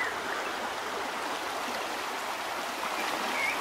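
River in Honduras flowing steadily, a broad continuous watery rush that stays even and moderately loud throughout, with no voices.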